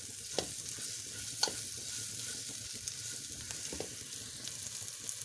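Chicken liver frying on a tawa with turmeric, ground coriander and Kashmiri red chili, a soft steady sizzle broken by a few sharp clicks of a spoon stirring against the pan.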